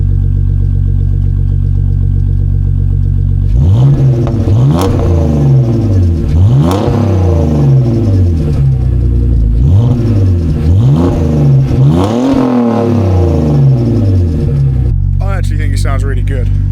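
A loud, warmed-up BMW E46 engine with its muffler deleted idles, then is revved hard several times in a row, each rev rising and falling with a raspy exhaust bark.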